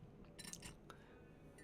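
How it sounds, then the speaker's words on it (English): A metal spoon clinks against a drinking glass in a quiet indoor room, giving a few light, scattered taps followed by one brighter clink at the end. "I don't know why I still have the spoon in my glass."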